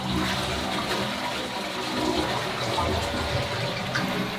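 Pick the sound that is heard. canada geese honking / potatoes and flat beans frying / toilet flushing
toilet flushing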